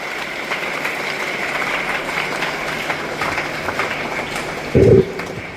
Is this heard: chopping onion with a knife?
no